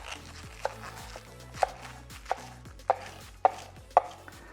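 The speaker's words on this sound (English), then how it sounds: "you can just cut it up like this into 1/4-inch" Knife strokes chopping baby bok choy into quarter-inch strips on a cutting board, about six sharp, evenly spaced cuts against a soft background hum, close and distinct.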